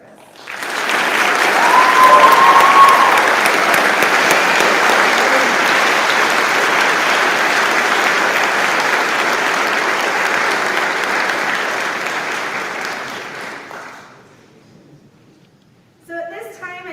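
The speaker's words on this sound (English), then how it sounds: "Please help me with a round of applause to thank him for his commitment to service." A school honors night audience gives long, loud, sustained applause in an indoor hall, the clapping holding steady for over ten seconds before fading away, then a short sound follows at the very end.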